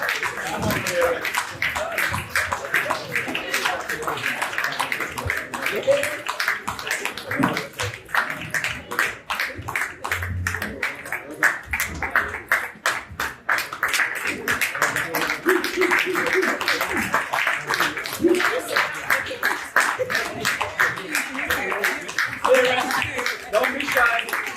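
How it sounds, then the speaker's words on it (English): Applause for parents at a manhood academy rites-of-passage graduation ceremony: dense, steady clapping from a crowd running throughout, with voices mixed in underneath. "big round of applause for the parents"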